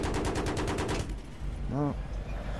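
A Battlefield 3 helicopter's gun fires a rapid, evenly spaced burst for about a second, then stops. Engine rumble continues underneath, and a short electronic tone follows.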